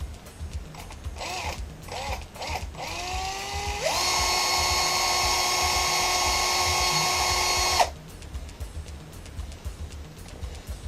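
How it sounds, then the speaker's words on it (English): A power drill winds up and runs steadily at high speed for about four seconds with a strong whine, then stops abruptly, with a few short bursts before it while making small light bulbs. "Make sure you don't drill into your hand."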